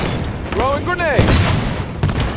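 Grenade thrown and exploding in a Halo 5 Arena Slayer match on the Eden map, a loud blast amid rapid gunfire, with a voice speaking briefly over the battle noise.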